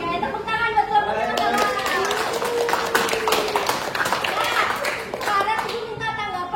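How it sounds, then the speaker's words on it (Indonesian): Classroom clapping for a student group during a microteaching lesson, a busy patter of many hands mixed with overlapping young voices and chatter, steady throughout at moderate loudness. "tepuk tangan buat kelompoknya"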